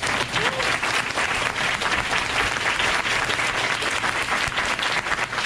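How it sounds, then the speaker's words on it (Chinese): A conference hall audience at the COSCUP 2019 closing session gives loud, dense, sustained applause for the sponsors, a continuous wash of many clapping hands with no break. "那就再请热烈的掌声感谢每一个赞助商跟个人。"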